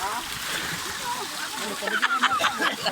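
Water splashes and flows along a canal outdoors, a moderate rushing with brief sharper splashes near the end, heard beneath nearby voices.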